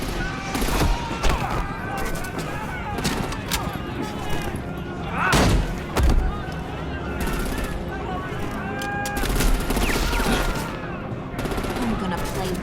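Gunfire in Batman: The Enemy Within, with dense bursts of shots and automatic fire and occasional heavy thumps, loud and continuous, with voices shouting over it.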